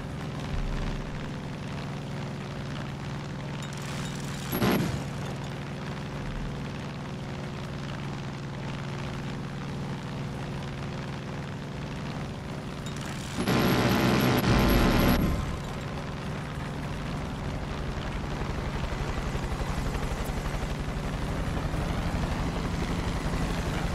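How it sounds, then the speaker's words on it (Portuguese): A small plane in Far Cry 5 drones steadily and loudly throughout, its engine hum holding a low tone, with a couple of brief harsher roaring bursts near the start and midway. "Isto para controlar este avião não é nada fácil, mano."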